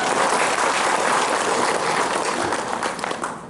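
Seminar audience applauding steadily throughout, a dense wash of many hands clapping at a fairly loud level that tapers slightly near the end.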